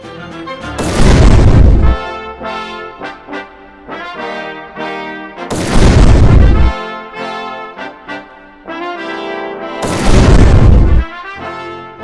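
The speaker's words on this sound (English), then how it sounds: "The ceremony was then followed by a 21-gun salute." Three rifle volleys of a 21-gun salute at a military ceremony, each a loud sharp crack with a booming echo, evenly spaced several seconds apart outdoors, with music-like tonal sound between the shots.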